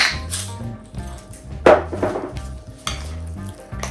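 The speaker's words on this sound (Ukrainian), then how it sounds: "І знову все перемішую до однорідності." A spoon stirs a soft cheese filling for Easter paska in a bowl, with several close scraping and knocking strokes and short pauses between them.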